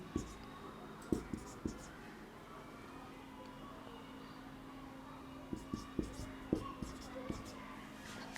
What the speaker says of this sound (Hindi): शुरू से लिखता हूं मैं इसे